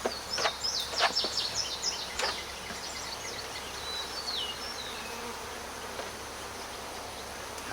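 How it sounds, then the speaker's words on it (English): Honeybees buzzing close by during a hive inspection, in irregular bursts, with several sharp high chirps early on and a steady hum continuing quietly afterward. "Now I got the bees all in there again. Come on, bees, get out."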